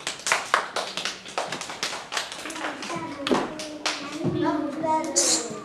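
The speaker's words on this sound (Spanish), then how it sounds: "Un aplauso para los dos." A small group of children at a school prehistory exhibition clap in scattered, uneven taps, close and fairly quiet, mixed with children's voices and chatter that take over as the clapping thins out.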